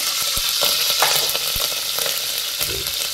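Curry leaves and cumin seeds sizzle and crackle in a small amount of hot oil while cooking tomato rice bath, with a loud, steady frying hiss and sharp pops.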